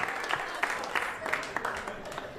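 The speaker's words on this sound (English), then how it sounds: "A round of applause." Applause from a stand-up comedy audience, a steady patter of many hands clapping at moderate volume with a few louder claps mixed in, under some crowd noise.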